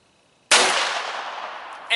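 A single sharp gunshot crack at a shooting range, loud and close, followed by a long fading decay.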